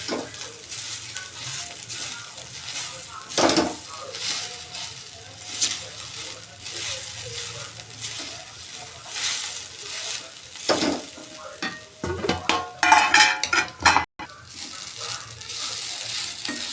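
Sabudana khichdi scraped and stirred around a pan with a spoon, irregular scrapes over a soft sizzle, with a flurry of quicker clinking strokes near the end and a voice speaking now and then.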